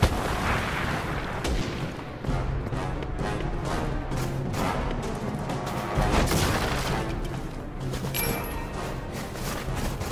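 Enemy gunfire in Resident Evil 6 during a snowy outdoor fight: repeated heavy shots and cracks, moderately loud, over a constant backdrop of game sound.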